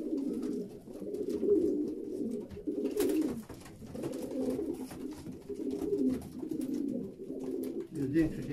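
Pigeons coo steadily inside a breeder's racing-pigeon loft, a low, continuous rolling murmur of several birds with soft swells and dips throughout.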